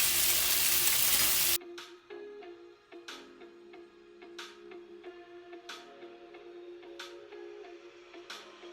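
Snapper frying in a pan gives a loud, bright sizzle for a moment, then drops to a quiet background with light, regular ticking pops and small clicks.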